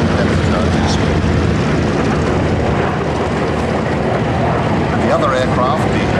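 A propeller aircraft roars steadily overhead at the Duxford air display, loud and continuous, while a commentator talks over the engine noise.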